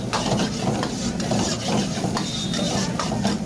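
Minced kebab meat cooking in a handi pan at a Shahdara street food stall, with a steady dense sizzle and the scrape and clatter of stirring metal, continuous and close throughout.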